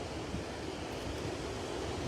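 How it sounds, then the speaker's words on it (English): The Lower Falls on the Genesee River in Rochester, New York, a massive wall of falling water, makes a steady, dense roar that stays constant and fairly loud throughout, with no voices. "You'll see a massive wall of water falling"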